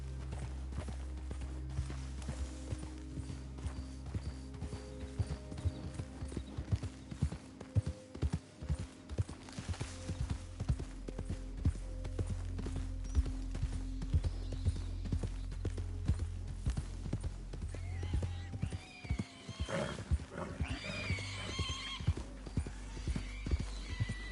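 Horse hooves clip-clop steadily at a gallop in Red Dead Redemption 2, with a loud whinnying neigh breaking out near the end over the continuous rhythmic hoofbeats.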